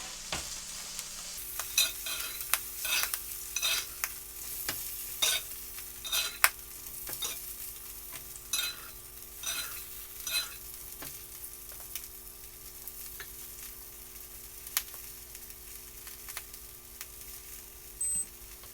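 Sous vide salmon sizzles in a hot pan with butter while being basted, a steady fry punctuated by repeated scraping spoon strokes and small clinks, close and continuous with no speech.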